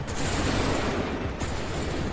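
Dense musket volley from massed soldiers in an Assassin's Creed III battle, a continuous roaring crackle of overlapping gunfire filling the whole stretch with no pause.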